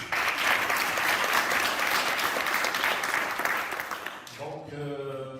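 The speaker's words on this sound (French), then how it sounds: "je vous demande de les applaudir" Audience applause at a data science spring school, thick steady clapping from a room of listeners that fades near the end as a musical tone comes in.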